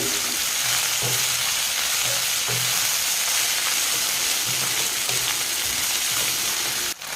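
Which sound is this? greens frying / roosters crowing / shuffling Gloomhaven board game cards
greens frying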